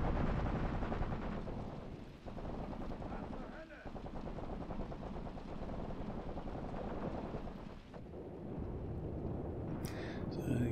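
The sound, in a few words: machine gun and artillery fire in the video game Graviteam Tactics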